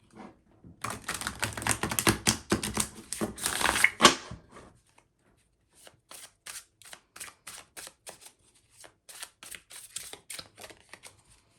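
A Lost Hollow tarot deck is shuffled close up, first in a dense, riffling four-second flurry of papery card slaps, then after a pause in sparser bursts of softer shuffling.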